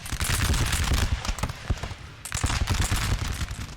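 Artillery and massed musket fire in Napoleon Total War rattle in dense, rapid volleys, a continuous crackling fusillade of sharp reports with a brief lull midway before the barrage resumes.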